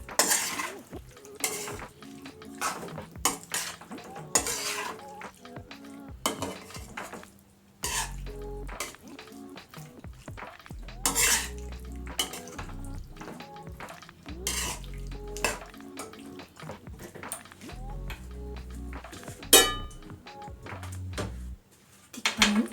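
White onion is stirred into pepper steak in a pan, with repeated clanks and scrapes of a metal utensil against the pan in an irregular rhythm, close and fairly loud, with a soft sizzle and an occasional cough.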